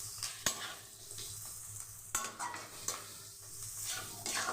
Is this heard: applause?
no